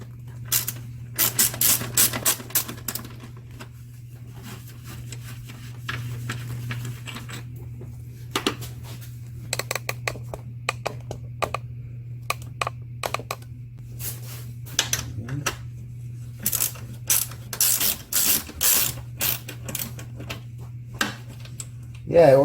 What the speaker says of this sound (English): now I'll get the bolts for the shroud. Okay, and these are 10 millimeters.